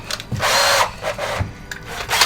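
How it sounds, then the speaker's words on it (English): A power drill whines loudly in strained bursts, core cutting through material during a narrowboat fit-out, with brief pauses between pushes. "nearly burnt this drill out yesterday doing this."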